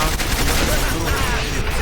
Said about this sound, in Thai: อ่าสับเปลี่ยนเป็นปืนกลนะครับ